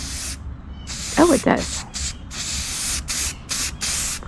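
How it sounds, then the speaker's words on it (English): Red spray paint hisses from an aerosol can onto a homemade costume outdoors in a series of broadband bursts, some short and some sustained, with a brief spoken remark in between. "I'm spray painting the darker color a little more red"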